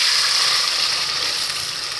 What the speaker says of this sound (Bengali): এবার আমি এই ডাউলটা ঢেলে দেবো।